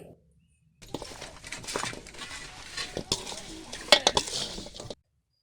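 Mutton pieces are mixed by hand with turmeric powder and homemade masala in a metal vessel, making close wet squelching and rattling scrapes with a few sharper clinks. The mixing starts after a short silence and stops abruptly.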